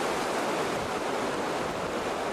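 Sea waves wash steadily against the rocky shore of Naissaar, heard as a soft, constant rushing with some wind, faint and distant, with no voices.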